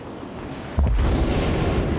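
A torpedo strikes a ship in World of Warships, a sudden deep boom followed by a sustained low rumbling roar against steady background noise.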